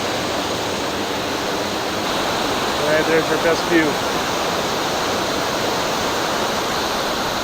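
A waterfall in Wells Gray, British Columbia roars as a loud, dense, steady rush of water that fills the whole scene, with a brief spoken remark partly buried beneath it.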